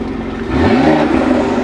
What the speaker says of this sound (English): Bro, the air intake's louder than the actual car.